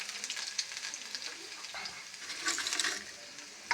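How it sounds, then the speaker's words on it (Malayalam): Chopped garlic frying in hot oil in a pan, giving a soft, continuous close sizzle with light crackles that swell briefly near the end. "പാനിൽ എണ്ണ ചൂടാകാനായി വെച്ചിട്ടുണ്ട്. അതിലേക്ക് കുറച്ച് വെളുത്തുള്ളി അരിഞ്ഞത് ചേർത്ത് കൊടുക്കാം."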